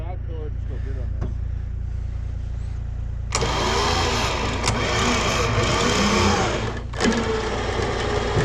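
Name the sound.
truck engine starting and running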